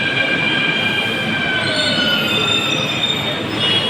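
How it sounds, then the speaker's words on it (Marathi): A Mumbai metro train on the Versova–Ghatkopar line pulls into a station with loud, sustained wheel squeal. Several high metallic tones rise and shift over a continuous rolling rail rumble, and no one speaks. "तर आपली मेट्रो आले आता"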